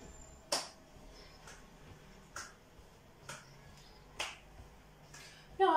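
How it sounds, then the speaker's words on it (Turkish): Older adults clapping their hands during a home exercise session: six sharp, faint single claps at a slow, even pace in an otherwise quiet room. "Alkış yapabiliriz."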